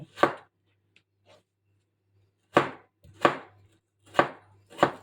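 Watermelon rind is chopped for curry with sharp, close knife strikes on a board: one hit, a pause, then four firm chops in an uneven rhythm, no talking.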